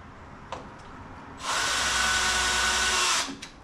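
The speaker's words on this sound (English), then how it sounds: "I'm going to need to drill it in a little bit." A power drill driving into wood on an Adirondack chair whirs steadily for under two seconds, starting abruptly and cutting off, with small knocks before and after.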